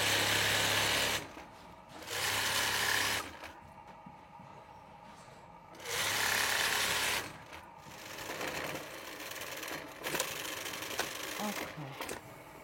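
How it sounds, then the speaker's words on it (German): A sewing machine stitches the edge of a handmade wool carpet in several short bursts of rapid, close whirring, separated by quieter pauses with faint handling noise. "Ich habe jetzt die Kante genäht, sauber gemacht."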